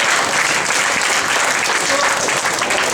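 An audience at a golden anniversary dinner applauds steadily, with dense clapping throughout that stays loud and close.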